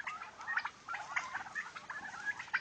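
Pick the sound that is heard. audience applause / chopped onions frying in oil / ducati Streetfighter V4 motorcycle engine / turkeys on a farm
turkeys on a farm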